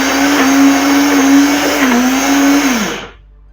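A Silvercrest blender grinds peanuts into peanut butter, a loud steady motor whine that holds, dips slightly, then winds down and cuts off near the end.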